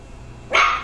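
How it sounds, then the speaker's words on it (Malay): A single sharp, close dog bark bursts out near the end, loud and brief, after a stretch of quiet indoor background. "Masih lagi berbuat bising anjing ini"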